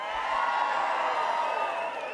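A campaign rally crowd cheering and roaring steadily, a loud dense wash of voices with a rising whistle or whoop near the end.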